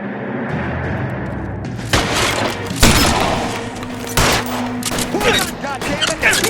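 Gunfire in a shootout from the video game L.A. Noire: a dense fusillade of shots and booms over about six seconds, with loud bursts recurring near and heavy, and voices talking over the din.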